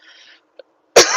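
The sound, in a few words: cough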